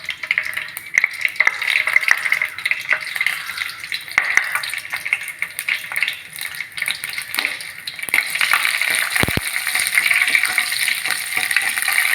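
Vadagam (onion vadagam for tempering) frying and spluttering in hot oil, a steady close crackle and sizzle with scattered pops and a louder burst of spitting near the end.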